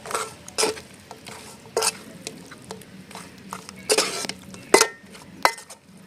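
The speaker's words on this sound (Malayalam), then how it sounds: "നന്നായിട്ട് ഇളക്കി കൊടുക്കാം മസാല ഒന്നിന് ചേരുന്ന വരെ ഒന്ന് ഇളക്കി കൊടുക്കാം" A spoon stirs crab roast masala in a pan, Kerala style, producing a run of irregular scraping scrapes and clinks over a low, thick sizzle, close by with no talking.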